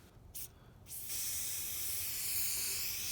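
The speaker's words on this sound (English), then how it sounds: "So what you're going to do is start spraying light coats." A spray paint can hisses in two short bursts while painting car seats, then releases one long continuous spray, a close, bright, steady hiss.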